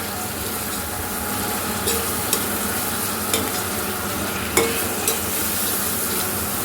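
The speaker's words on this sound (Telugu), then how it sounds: "ఇవన్నీ మంచిగా ఫ్రై అయ్యేంతవరకు దీంతోనే ఫ్రై కావాలి." Masala with coriander, mint and yogurt frying in a pan, a steady close sizzle with scraping stirs and a few sharp clicks of the spoon against the pan, no voices.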